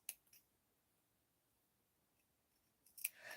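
Scissors snip fabric while an appliqué pouch is being made, giving a couple of crisp cuts at the start and a louder cluster of snips at the end, separated by near silence.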